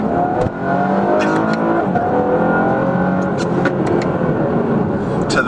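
A 2019 Chevrolet Camaro RS with a V6 pulls hard out of a corner, its engine note loud and steady as the revs climb, heard from inside the car with occasional faint voices.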